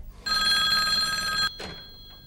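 A home telephone rings in a Persian TV drama: one loud, close ring lasting just over a second, then the start of a shorter second ring, with no talk.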